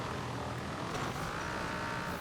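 Limousine engine in Forza Horizon 4, a steady, unusual-sounding drone with a broad noisy roar that holds level for about two seconds, close and alone without talking.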